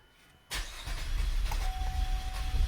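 A car engine, just back from transmission repair, cranks and catches abruptly, then settles into a steady, close idle with a faint whine.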